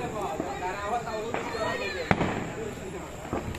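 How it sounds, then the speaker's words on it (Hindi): Chatai patakha string firecrackers set off by hand at a newly built hotel and marriage hall, with a sharp burst near the middle among scattered pops under steady talk. "ये भाई साहब पुनः हाथ में ही चटाई पटाखा बजाने के शौकीन हैं, कई बजा चुके हैं"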